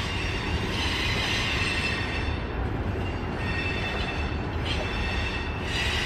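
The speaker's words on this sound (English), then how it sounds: "Wow, this train is slow." Long freight train rolling slowly past at close range in Nashville, Tennessee, a steady loud rumble of rail cars with wheel squeal and faint clatter, no voices.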